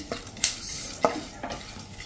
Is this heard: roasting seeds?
yes